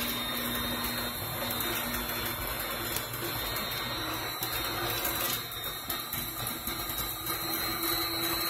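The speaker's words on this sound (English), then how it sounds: "Keep mixing it to form to a ball so it comes together" A heavy-duty stand mixer kneads dinner roll dough, giving off a constant close-up motor hum and whine with no pause.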